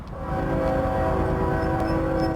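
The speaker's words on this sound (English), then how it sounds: "The train coming right in right now. Looks like a big one." A large train rolls into the Santa Fe station in Kingman, Arizona, a loud continuous rumble with rhythmic clatter of railcars and a steady tonal hum, close by and unbroken, with no talking.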